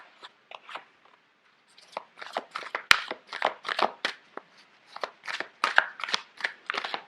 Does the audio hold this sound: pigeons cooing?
no